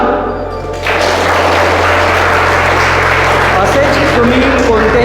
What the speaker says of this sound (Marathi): तुमच्या सर्वांसाठी एकदा पुन्हा तुम्ही स्वतः टाळ्या वाजवा